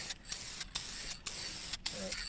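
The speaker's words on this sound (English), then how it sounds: "Let that soak in and I'll spray some more." Spray-on finish misted onto a custom shotgun stock in repeated short bursts, a close, steady hiss broken by brief pauses between passes.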